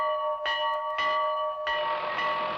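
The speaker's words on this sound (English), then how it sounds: "Ah, yes, the bell signals a nuclear attack in these parts." A bell in a film, probably a church bell, rings in loud, resonant strokes roughly every half second, each new stroke layering over the lingering hum of the last.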